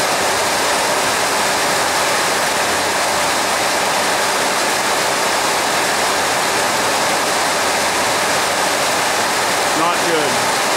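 Rain leaks through a carport roof onto a truck bumper, producing a continuous loud rushing wash of water with a faint brief disturbance near the end.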